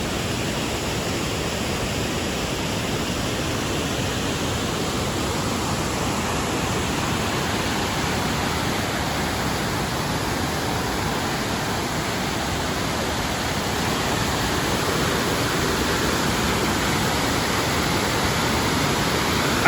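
Inglis Falls, a waterfall near Owen Sound, pours in a steady, dense roar that stays loud and unbroken throughout, with no voices over it.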